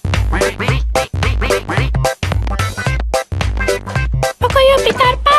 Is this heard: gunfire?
no